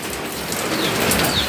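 Rain falls steadily and close by outside a small shop, making a loud, even wash of hiss for a brief moment without any talking.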